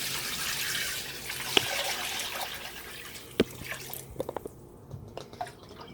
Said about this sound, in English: Does it matter how you pour it in? No, you just want to make sure that it covers the turkey.